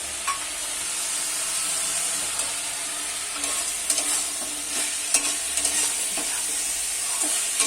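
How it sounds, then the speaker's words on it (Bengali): Flattened-rice polau with nuts and raisins being stirred in a hot pan, a steady sizzling hiss of frying with repeated spatula scrapes and soft clicks, close and continuous. "এইভাবে দিয়ে নাড়তে থাকছি"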